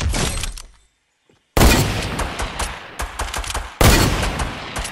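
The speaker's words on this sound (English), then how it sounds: "I sniped him." Sniper rifle shots in the video game Fortnite, sharp loud cracks with shattering impacts, a brief silence after the first burst, then several more heavy reports close by.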